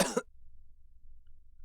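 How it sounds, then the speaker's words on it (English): A single short cough sounds at the start, then near silence follows. "Stop coughing!"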